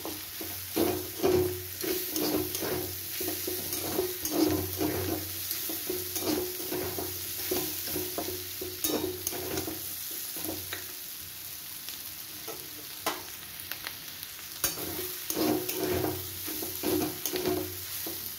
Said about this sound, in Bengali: রসুনটা আমার ভাজা ভাজা হয়ে গেছে। এবার আদা কোড়াটা দিয়ে দিলাম।